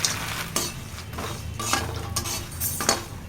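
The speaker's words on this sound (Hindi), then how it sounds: "उनको फ्राई करने के बाद में बचे हुए घी में हम ये मखानों को भी फ्राई कर लेंगे।" Fox nuts stirred while frying in leftover ghee in a pan, with a steady sizzle, a spoon scraping and clinking at intervals, and no voices.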